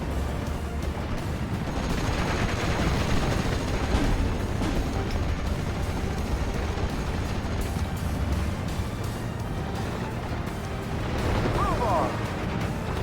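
Continuous heavy gunfire and artillery rumble from a Steel Division Normandy 44 battle, dense and loud throughout, with a voice talking over the din at times.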